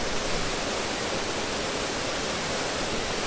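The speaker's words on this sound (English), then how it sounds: "climb in the bottom of the waterfall here" A waterfall in a remote outdoor spot pours steadily as a dense, even roar of falling water, loud and unbroken throughout with no voices.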